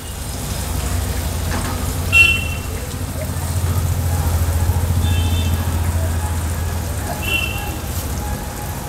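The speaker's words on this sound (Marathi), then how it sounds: "आता हे सर्व काप पलटून झाले की पुन्हा मागची बाजू देखील आपल्याला तशीच फ्राय करून घ्यायची आहे" Brinjal slices shallow-frying in a little oil in a pan give a steady, close crackling sizzle throughout, with a few brief clinks as the slices are turned.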